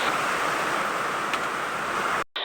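Steady roaring wind on a rainy day rushes continuously, loud and broad like surf, then cuts off abruptly near the end.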